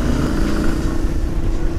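A motorcycle engine drones steadily during a ride on a maxi enduro, loud and close, with a constant low hum and buffeting wind noise.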